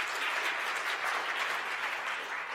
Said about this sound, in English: A big hand of applause for Dan on that